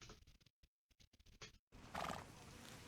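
A horse in Red Dead Redemption 2 snorts and neighs in short bursts broken by brief silences, followed by a louder whinny over faint hoof clops.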